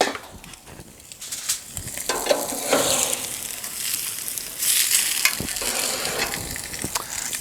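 Chuck steak sizzles over a live fire in a pizza oven, fat flaring with loud crackling and spitting, bursts of hiss rising and falling, close and continuous without talk.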